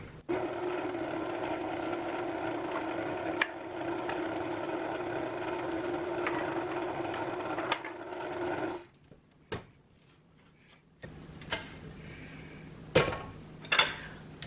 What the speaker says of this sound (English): We're going to mix this until it's all thoroughly incorporated